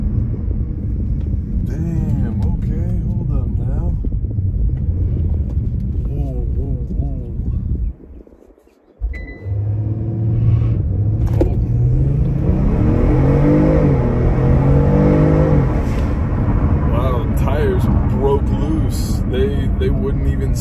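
Kia Stinger fitted with a throttle response controller launches hard, its engine roaring loud and close as the tires spin loose, with a brief dip before revs surge again; people talk excitedly over it.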